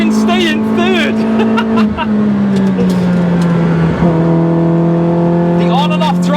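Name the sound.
cammed Citroen C2 rally tribute engine revving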